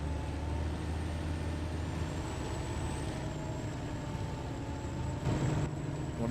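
A heavy truck engine in the Snowrunner game drones low and steady while wading through water, with a faint high whine above and a brief rougher burst near the end, no talking.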